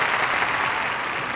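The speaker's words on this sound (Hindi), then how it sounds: "तालियां" An audience applauding, a dense burst of clapping heard close and fairly loud for a second or so.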